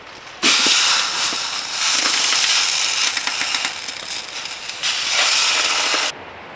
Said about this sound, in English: Got the 2-pot boiling right now on the wood stove.